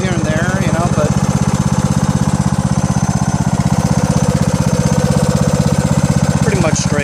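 A Craftsman DLS3500 lawn tractor riding mower with a 20HP Briggs & Stratton engine runs steadily and loudly up close, its rapid chugging unbroken throughout, with a voice briefly audible over it.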